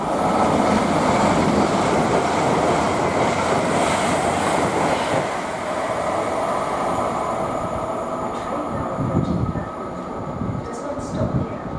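A Class 807 electric train bound for Liverpool Lime Street rushes past at Nuneaton on the West Coast Main Line, a loud sustained roar of wheels and rail noise that eases slightly toward the end.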